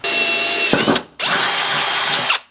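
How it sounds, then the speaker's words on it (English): A power drill with a small pilot bit bores a hole during a stainless 4-inch snorkel install on a Holden RG Colorado, whining loudly at a steady pitch in two runs separated by a short pause, close up. "I'm starting on a small drill bit, just so I don't walk heaps and a bit of a pilot bit."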